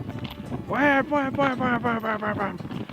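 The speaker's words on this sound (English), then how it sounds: "we hear mallards just all over." A loud, close run of nasal mallard duck quacks, about a dozen in quick succession, falling in pitch and fading toward the end.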